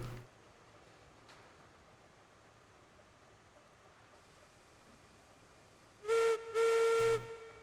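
A steam locomotive whistle in Railroads Online sounds two loud, clear blasts, a short one then a longer one, after several seconds of quiet background hiss.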